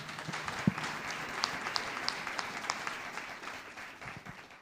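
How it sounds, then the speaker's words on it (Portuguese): A church congregation applauds during a service, soft distant clapping spread evenly across the clip with a few sharper individual claps standing out, fairly quiet overall. "Sua melhor salva de palmas ao Senhor Jesus"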